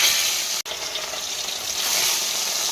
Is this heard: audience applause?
no